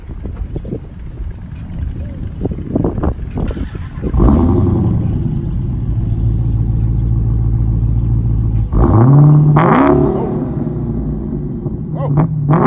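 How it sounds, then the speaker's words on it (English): A 2019 Dodge Challenger Hellcat cranks and fires up, its exhaust bursting into a loud, deep idle rumble with sharp revs near the end, close by and drowning out scattered voices before it catches. "We gonna start that thing up."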